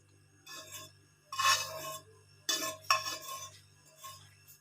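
Roasted gram flour is scraped from a pan into a bowl with a spoon, several close metallic scrapes and knocks in bursts separated by short pauses.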